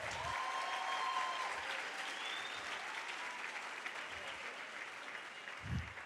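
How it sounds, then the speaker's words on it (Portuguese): A church congregation claps steadily throughout, a dense and even patter of many hands heard from a short distance, with no voices over it. "Dê uma salva de palmas para o Paulo."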